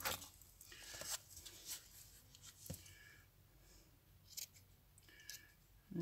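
Scissors trim the edges of delicate lace, making a few quiet, close snips and rustles spaced irregularly against a faint background.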